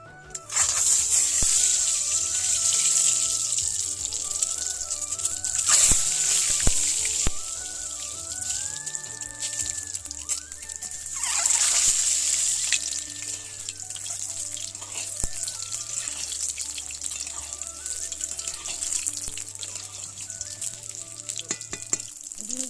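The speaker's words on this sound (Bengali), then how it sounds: "একটা করে ডিম দিয়ে আমি ভেজে নিচ্ছি" Eggs fry in mustard oil in a wok with a loud, continuous sizzling hiss and occasional spits, while soft music plays faintly underneath.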